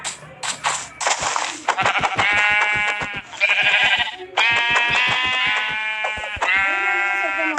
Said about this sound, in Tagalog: Maraming tupa.